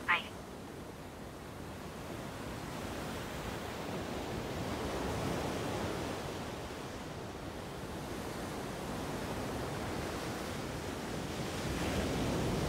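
Ocean surf rumbles steadily, a broad wash of breaking waves rising and falling slowly, with wind buffeting the microphone and a brief knock at the start.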